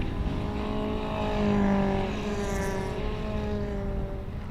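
Toyota MR2 race cars on the Anglesey circuit during a championship race, engines droning loudly with rising and falling pitch as they pass, one car sweeping by close with a Doppler shift.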